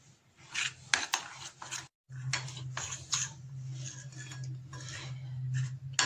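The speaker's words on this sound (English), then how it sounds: "Now I mix the spices, all ingredients well" Spices and ingredients for fish pakora being mixed by hand in a bowl, soft repeated scraping and rubbing strokes up close, with a brief pause, over a low steady hum.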